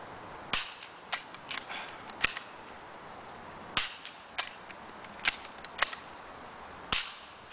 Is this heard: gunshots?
yes